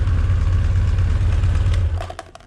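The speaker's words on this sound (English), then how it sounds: "The motorcycle, everything is running a lot better than what it has." A Honda CB900 motorcycle engine runs steadily with a deep, loud idle drone and slight clatter, then the level drops near the end as a few sharp ticks and pops sound.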